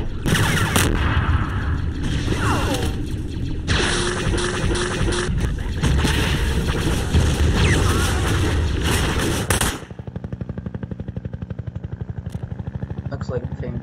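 A tank firing in a video game battle: dense, loud bursts of cannon and gunfire for about ten seconds, then a steady pulsing engine drone.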